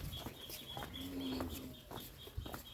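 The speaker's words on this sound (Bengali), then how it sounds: "ওই যে দেশি মোরগ, হাঁস" Native roosters and ducks call in a rural settlement, giving repeated clucking and short calls at moderate distance over a soft outdoor background.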